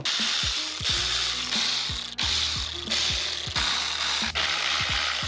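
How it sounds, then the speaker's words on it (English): A ratcheting wrench zips valve cover bolts off a Lexus SC300 engine in quick bursts of sharp clicking, with several separate runs and brief pauses between them, close and clear. "Chinese ratcheting wrench from TikTok."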